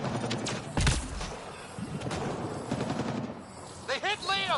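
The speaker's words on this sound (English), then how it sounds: "Why am I hearing gunfire?" Gunfire rings out during a sci-fi battle in the video game Mass Effect Andromeda, with sharp bursts near the start and scattered shots over busy game noise, followed by a few short rising electronic tones at the end.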